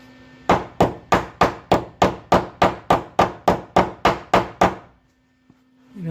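A hammer taps a car body panel during bodywork on a patch repair: about fifteen sharp, evenly spaced metallic knocks in a quick steady rhythm, close and loud, followed by near silence.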